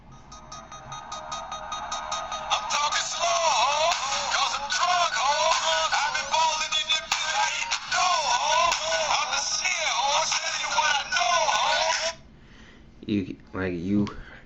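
Music plays from a phone's speaker sealed inside a Seidio Obex waterproof case, sounding thin, tinny and distorted, with a short burst of talk after the music stops.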